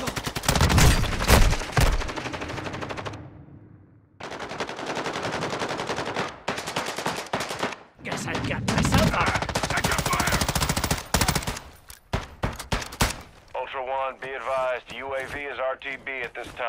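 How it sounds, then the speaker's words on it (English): Bursts of automatic gunfire in Call of Duty: Modern Warfare 2 multiplayer on the Mazrah map, loud and repeated in rapid volleys with short gaps, mixed with game radio voices and effects. "You are taking effective fire."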